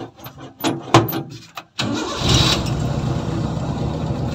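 A Toyota 4K engine in an owner-type jeep with an idle issue: several short starter cranking bursts, then the engine catches and settles into a steady, loud idle.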